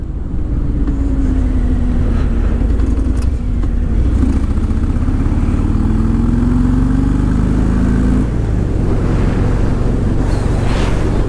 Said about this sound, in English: You can still hear the Harley transmission clank, but you can't really feel it.